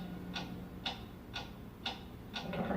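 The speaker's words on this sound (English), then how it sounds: "What is that mysterious ticking noise?" Mysterious ticking noise with five evenly spaced soft ticks about half a second apart, faint and steady over a constant low background hum.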